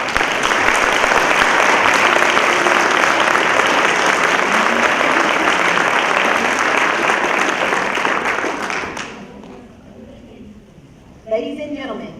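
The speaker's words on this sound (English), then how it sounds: "please join me in a round of applause for all of our retirees and their families" A large audience gives sustained loud applause for military retirees and their families at a service celebration, dense and steady for about nine seconds before fading out, followed by a brief quieter stretch with a voice speaking.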